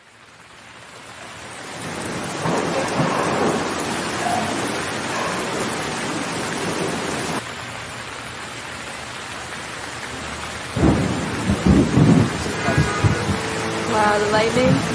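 A thunderstorm in India with steady rain hissing on surfaces and low rumbling thunder rolling underneath, while someone speaks over it in the latter part.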